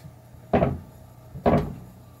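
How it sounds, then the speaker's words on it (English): A plastic container of rusty pinball machine legs soaking in rust-removal liquid is lifted and dropped about half an inch, giving two distinct dull thuds with a faint slosh, about a second apart, close and fairly loud. "I just lift up my container and drop it, probably about a 1/2 inch"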